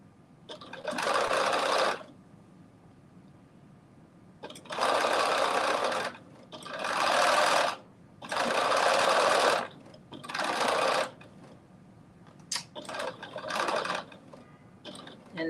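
A sewing machine back stitching fabric on a reversible bonnet runs in five or six separate bursts of one to two seconds each, with short quiet pauses between them, close and clear with no talking.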